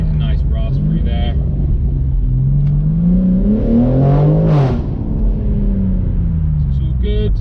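A BMW M4 G83 fitted with an R44 titanium exhaust revs loudly in a raspy sweep up and back down, with a sharp rise peaking midway, then settles to a rumbling idle; close and dominant throughout.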